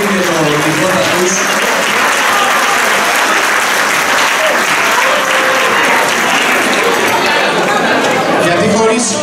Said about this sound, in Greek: Ένα πολύ μεγάλο χειροκρότημα στα παιδιά